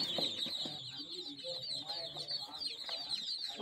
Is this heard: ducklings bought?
yes